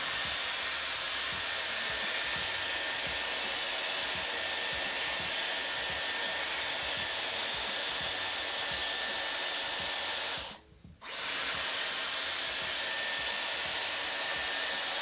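A Dyson Airwrap hair styler blows air in a steady, loud, broadband whoosh that runs nearly the whole time, cutting out briefly for a moment before resuming.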